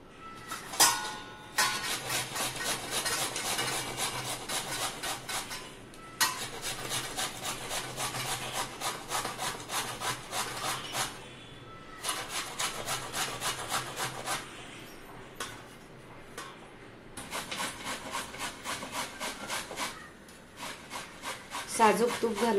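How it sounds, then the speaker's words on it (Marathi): Bottle gourd (dudhi) rasped against a hand grater for halwa, long runs of rapid rhythmic scraping strokes broken by short pauses, close and clear with no talk. "आता हा दुधी किसून घ्यायचा आहे"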